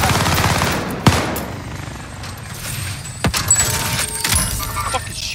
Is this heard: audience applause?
no